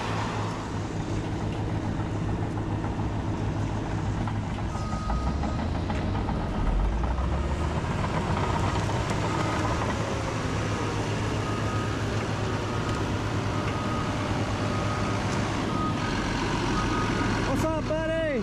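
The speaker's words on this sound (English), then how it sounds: "These compactors are doing some work." Landfill compactors and garbage trucks work at a busy landfill, making a continuous heavy diesel rumble with grinding and clanking that rises and falls, loud and near throughout, with a brief squeal near the end.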